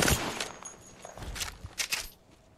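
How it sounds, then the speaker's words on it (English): Bursts of gunfire in Apex Legends, several rapid shots in short clusters, fairly faint and distant, with brief gaps between volleys. "Opening fire on the enemy"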